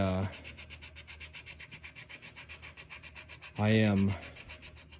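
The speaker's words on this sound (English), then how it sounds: "I'm wet sanding right now." Rapid rhythmic rubbing strokes of wet sandpaper polishing a custom 1911 pistol's feed ramp and barrel throat, steady back-and-forth scrubbing, with a short voice-like tonal sound midway.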